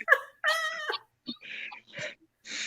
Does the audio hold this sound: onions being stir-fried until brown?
no